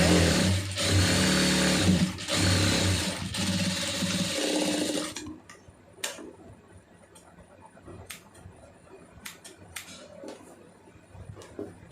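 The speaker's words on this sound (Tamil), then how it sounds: "தைக்கும்போது ரெண்டும் மாற்றி மாற்றி தைக்கிறாரு" A sewing machine stitches the side seam of a lined blouse in a loud, fast, steady whir for about five seconds, then stops, leaving faint clicks and handling noises.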